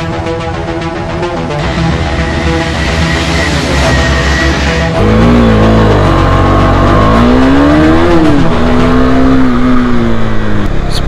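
KTM Adventure 390 motorcycles on a test ride at a track event in Delhi, engines droning loudly and continuously, with rising and falling revs as the bikes accelerate close by.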